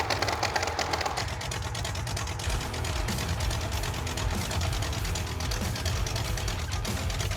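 The Stubby Bob truck's engine labors steadily while driving up a steep grade, a continuous low rumble with a rattly, clattering texture, loud and close with no talking.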